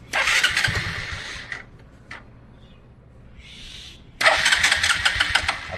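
A motorcycle's self-start cranks the engine during repair of a starting problem, with a loud burst of cranking, a quiet pause with small clicks, then another cranking burst.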